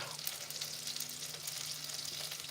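Butter and onions sizzling in a pan, with a soft, steady, faint crackle and no talking.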